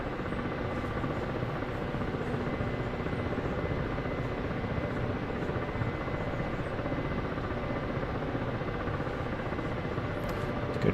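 Rotor and engine of an attack helicopter, a KA-50 or AH-64D Apache, in a flight simulator game; a steady droning whir continues at even loudness throughout, with no talking.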